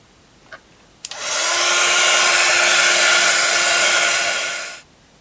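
A hair dryer runs loud and close as it dries a painted terracotta clay plaque, switching on with a click and blowing a steady whooshing roar for nearly four seconds before cutting off.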